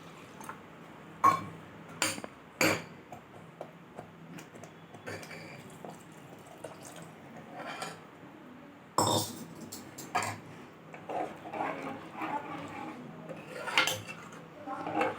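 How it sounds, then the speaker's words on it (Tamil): Spoon stirring vegetable kurma gravy in a pot after a glass of water is poured in, with irregular metallic clinks and scrapes, a louder burst of clatter midway, and soft wet stirring between, close and moderately loud. "நல்லா ஒரு கிளாஸ் தண்ணி விட்டு கலந்தாச்சுங்க"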